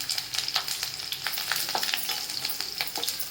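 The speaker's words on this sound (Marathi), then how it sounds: "लसूण परतून घे कढीपत्ता टाकते आता" Garlic and curry leaves sauté in a pan with a bright, crackling sizzle, close and continuous, with light stirring ticks spread through it and no voices.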